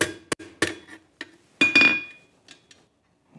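Hammer taps seat a post vise onto a wooden stump, a handful of sharp separate metallic strikes with a ringing clink among them, close and clear, with quiet gaps between blows.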